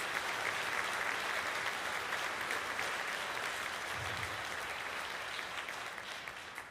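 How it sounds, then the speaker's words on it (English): Sustained applause from a large concert audience at an all-state band performance, a thick, even wash of clapping that holds steady for several seconds and eases slightly toward the end. "Could you give our board and Devin Otto a big round of applause?"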